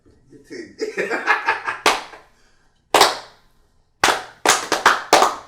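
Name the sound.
hand clapping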